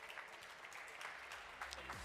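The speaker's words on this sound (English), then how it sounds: "Now, Dr. Ammous, when you're ready, round of applause, guys." Audience applause at a conference keynote as a speaker is welcomed on stage: steady, faint clapping from a crowd, continuous and somewhat distant throughout.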